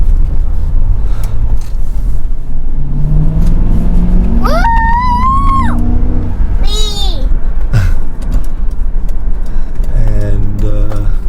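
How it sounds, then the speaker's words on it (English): A Mercury Grand Marquis V8 with an opened-up dual exhaust and rear cat delete rumbles loudly and steadily throughout from inside the car, with a deep low drone while other brief tonal sounds and noises pass over it. "We opened up the exhaust. Okay, sounds nice and deeper."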